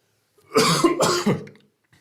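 A close, forceful throat clearing in two quick rough bursts, alone in an otherwise quiet room.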